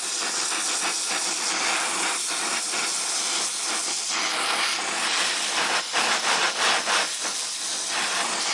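Hissing gas from a custom mini acetylene torch heating sealant on a fitting, a loud, close, steady rushing hiss with slight fluctuations and a few scraping touches, no talk.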